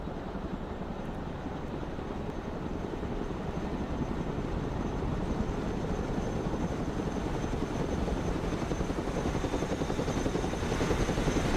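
A Chinook helicopter in a video game flies with a dense, continuous rotor roar and engine whine, loud and steady for the whole stretch, with no voices.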